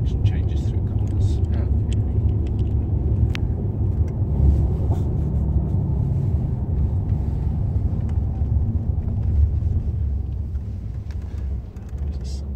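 Mercedes-Benz C63 AMG on circuit hot laps, a steady loud engine roar and road rumble filling the cabin continuously, with occasional faint voices underneath.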